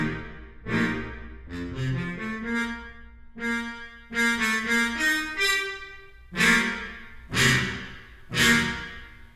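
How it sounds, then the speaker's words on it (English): A trombone ensemble sample patch using Harmon mutes from the CineBrass Pro library plays a series of chords, some held and some short and punchy, separated by clear pauses, moderately quiet and unaccompanied. "This is a Harmon mute articulation patch."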